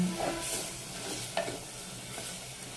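Ginger garlic paste frying in a clay pot, a soft constant sizzle with a couple of faint stirring scrapes, close but fairly quiet, with no voices.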